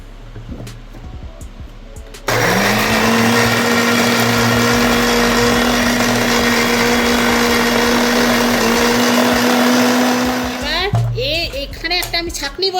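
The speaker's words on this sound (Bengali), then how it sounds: "এবার মিক্সির বাটিতে আমরা এই তরমুজগুলোকে দিয়ে দেবো দিয়ে আর ভালো করে পেস্ট করে নেবো" A kitchen mixer grinder blends watermelon pieces into paste, starting abruptly with a loud steady whirring drone that runs for about eight seconds before winding down, with someone speaking before and after.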